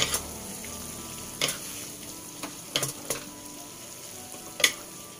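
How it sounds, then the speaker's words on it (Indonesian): Spaghetti aglio olio with black pepper and parsley stirred in a hot pan, a steady soft sizzle broken by a few sharp scrapes and clinks of a utensil, close and without talk. "Dan saya akan juga masukkan daun pasli dan kita kacau rata."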